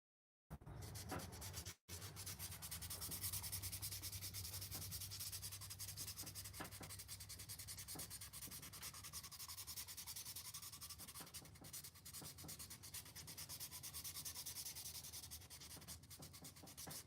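Steady, continuous sanding of a tobacco pipe with 400 grit sandpaper, a close, even rasping rub that keeps going without pause.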